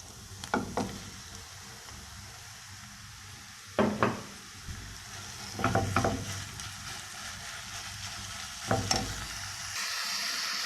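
Minced meat frying with softened onions in a pan, a steady sizzle broken by several sharp scraping stirs of a utensil against the pan, close and clear with no voices.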